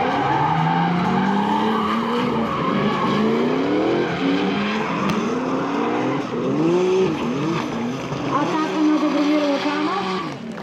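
Drift cars battle in a round of the Bulgarian drift championship, with engines revving hard and rising and falling in pitch, tires squealing throughout and a commentator talking over the loud, continuous noise.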